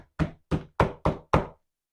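Five firm thuds of dough being knocked out flat on a counter, evenly spaced, close and distinct, with no talking.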